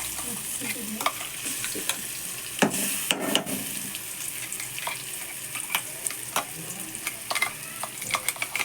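Brinjal chutney frying and being stirred in a hot pan with cumin, mustard seeds and curry leaves, a steady close sizzle broken by scraping spoon strokes and a few sharper clacks, with no voices.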